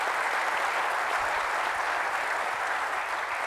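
Steady, fairly quiet audience applause at a moderated conversation event, an even wash of clapping that holds without a break for the whole stretch.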